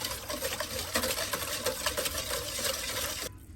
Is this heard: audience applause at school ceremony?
no